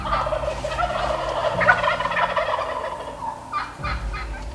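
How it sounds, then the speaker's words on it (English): Wild turkeys gobble repeatedly from their roost at a distance, several rattling calls overlapping one another outdoors with no talking. "these birds are gobbling on the roost"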